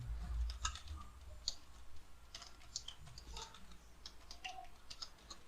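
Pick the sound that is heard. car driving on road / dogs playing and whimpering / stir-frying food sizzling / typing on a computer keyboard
typing on a computer keyboard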